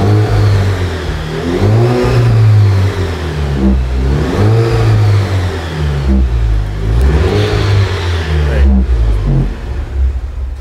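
An Alfa Romeo Giulia Veloce Q4 with a new Ragazzon sport exhaust revs up and down repeatedly, deep and throaty, loud and close, the pitch rising and falling with each throttle blip.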